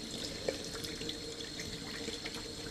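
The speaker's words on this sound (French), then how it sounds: "on rince bien avec l'eau" Tap water runs steadily over a fish being cleaned and rinsed in a sink, a continuous close splashing wash with no talking.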